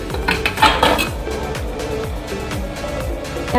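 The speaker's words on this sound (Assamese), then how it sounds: "ঢাকোন এখন বন্ধ কৰি দিম।" Metal pot and lid clatter on a stove over a pot of hot water, several close, bright clanks and scrapes in quick succession, loudest near the start, then lighter metallic taps.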